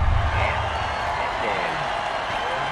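A football stadium crowd roars continuously after a touchdown, a dense, loud wash of cheering and applause heard under a commentator's voice.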